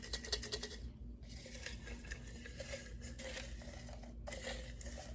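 Paper slips are stirred and shuffled inside a cup, giving a steady, close rustling and light clattering that runs on without pause and with no talking.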